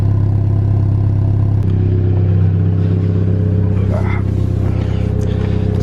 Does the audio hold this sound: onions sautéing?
no